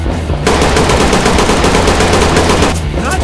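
Rapid automatic gunfire in the tactical police shooter game Ready Or Not, a loud, dense burst lasting about two seconds and heard close up, with quieter moments just before and after.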